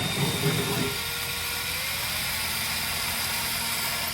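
A power drill spins wing nuts off hurricane shutters, a steady high-pitched whine holding close and loud for the whole stretch with no pauses, under a broad mechanical hiss.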